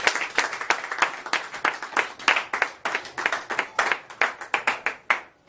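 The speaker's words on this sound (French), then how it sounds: "Applaudissez pour vous." Indoors at a religious gathering, an audience claps in a loose but rhythmic series of sharp, fairly close hand claps that continues steadily for several seconds, with no talking over it.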